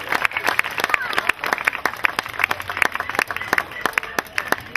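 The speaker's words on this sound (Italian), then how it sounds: "Bel applauso per Francesco" An audience at a youth football tournament award ceremony claps for a young goalkeeper receiving a prize, a steady patter of many hands, fairly close and lively, with a voice speaking briefly over it.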